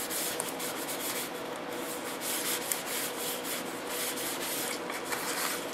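A cloth wipes finish off a small wooden scale-model trailer piece, a steady close rubbing and scuffing with soft rhythmic strokes and no talking.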